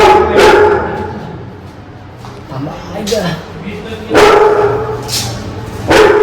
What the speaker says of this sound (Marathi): कुत्रा चांगला भुकतो माझ्यावर.